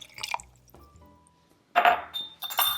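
A cup of water and dates are poured into a blender for a vegan Pad Thai sauce: a faint clink and trickle, then a louder splashing rush of liquid and clinking against the jug near the end.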